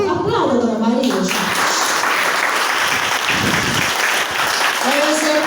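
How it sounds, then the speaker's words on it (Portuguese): A church prayer-group congregation bursts into sustained applause, broad clapping filling the room for several seconds, with a voice talking briefly at the start and again near the end. "Aplauda a Dona Maria"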